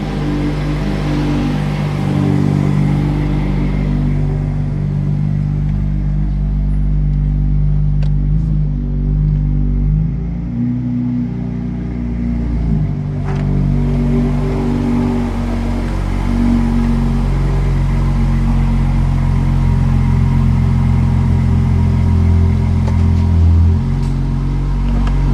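A Dodge Durango engine idles steadily with a deep, continuous low rumble, close and fairly loud, with small swells in revs throughout and no talking.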